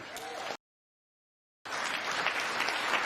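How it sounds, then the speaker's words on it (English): Audience applause and cheering at a press conference, a dense clapping wash that cuts to silence briefly, then resumes loudly. "There's a lot of cheering here"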